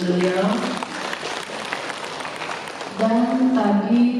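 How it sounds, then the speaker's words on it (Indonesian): An audience at a PPLIPI provincial and branch board inauguration applauds for the governor, with a dense spread of clapping running under a voice over an amplified system. "tepuk tangan untuk beliau"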